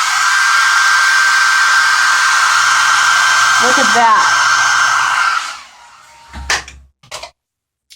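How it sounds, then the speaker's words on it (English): A blow dryer used to dry 3D fiber lash fibers roars steadily and loudly with a faint whine for about five seconds, then cuts off, leaving a short spoken remark and a few soft knocks. "I'm going to hit the blow dryer."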